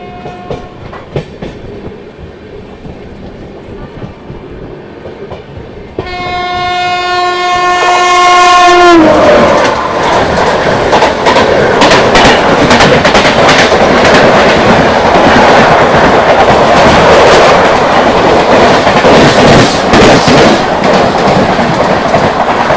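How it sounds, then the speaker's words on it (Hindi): The Sanghamitra Express, running between Danapur and SMVT Bengaluru, approaches with a long, loud two-tone horn, then passes close by in a sustained roar of wheels and rattling coaches that fills the rest of the clip. "ये आ गई सामने से दानापुर से एसएमबीटी बेंगलुरु के बीच चलने वाली संघमित्रा एक्सप्रेस ट्रेन"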